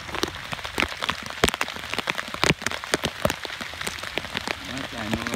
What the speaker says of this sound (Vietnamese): Đó, trời mưa.